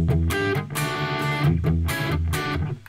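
Distorted electric guitar strums sustained triad chords over low bass notes in an 80s rock style, loud and close, with chords changing roughly every half second.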